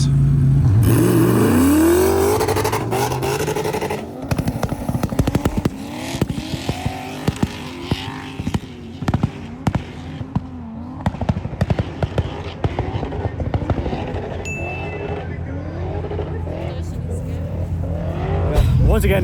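Powerful 1000+ hp drag cars race up a ski slope, engines screaming and revving hard, followed by crackling, popping exhaust bangs as they slow. Voices and cheering run underneath.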